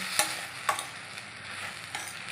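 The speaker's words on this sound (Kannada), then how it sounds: "ಸ್ವಲ್ಪ ಚಕ್ಕೆ ಲವಂಗ ಸ್ವಲ್ಪ ಬಾಡಿಸ್ಕೊಳ್ಳೋಣ" Cinnamon and cloves fry in a pan for a village-style country chicken and egg sambar, a steady close sizzle broken by a few sharp scrapes of a spoon stirring.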